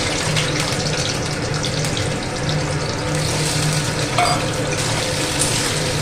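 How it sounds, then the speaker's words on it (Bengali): Boiled potatoes fry in hot oil with a steady, dense sizzle that hisses evenly throughout at a close, fairly loud level, with no talking. "আলুগুলো ভেজে নিই একটু লালচে করে।"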